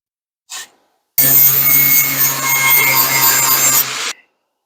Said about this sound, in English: let me hit it with the grinder, flap disc, and get it down some